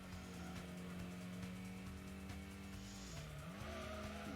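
Honda Prelude racing in Gran Turismo, its engine droning at steady pitch while tires squeal and skid, the engine note dipping and rising again near the end over a continuous loud backdrop.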